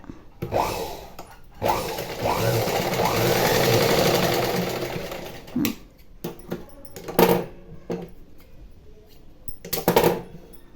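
A household sewing machine with a normal foot runs in short bursts, adding a reinforcing stitch on thread piping, the motor whirring close and steady, then a few quick stops and starts.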